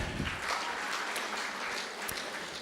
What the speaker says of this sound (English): can we give one more round of applause for Dr.